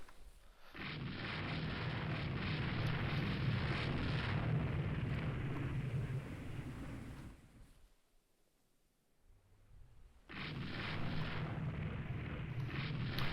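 Naval gunfire in the game Rule the Waves 3 rumbles as a sustained, dense roar of heavy shots, fading to near quiet for a moment before the barrage resumes at full strength.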